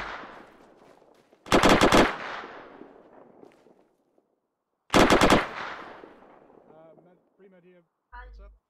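Two loud bursts of automatic gunfire in the military video game Arma 3, each lasting under a second and separated by a few seconds, with radio chatter and faint noises between them.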